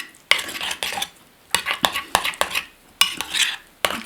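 A spoon works apple into porridge with a series of sharp scrapes and clinks against the bowl, irregular strokes close up and separated by short pauses.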